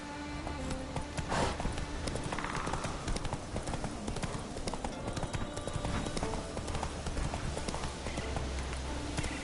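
Horse hooves beat a steady galloping clip-clop from start to finish in The Witcher 3, close and loud over game ambience.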